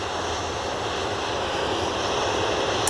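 Airbus A321neo airliner departing Manchester Airport for Rome, a steady distant jet engine roar of moderate loudness with a smooth broadband hiss and no talking.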